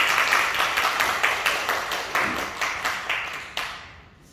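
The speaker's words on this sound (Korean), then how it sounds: "따뜻하게 박수로 환영합니다." A church congregation at a Christmas service claps to welcome visiting guests: close, dense applause with a steady pulse of crisp claps that runs for several seconds, then drops off sharply near the end.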